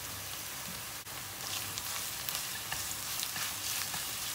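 Minced meat sizzling with caramelized onions in a pan for an eggplant moussaka, a soft, steady crackling fry that picks up with scattered pops after a brief stir.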